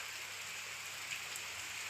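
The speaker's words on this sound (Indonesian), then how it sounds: "ini cuacanya langsung hujan ini guys" Steady rain falls on and around a house in a home village, a constant close patter of drops on surfaces with no voices.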